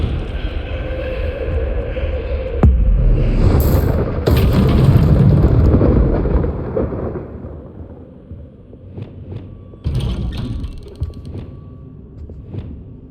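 A Confringo spell explodes in Hogwarts Legacy with a sharp crack, then a heavy booming, rumbling blast that slowly fades, followed by a few lighter clicks and a smaller burst.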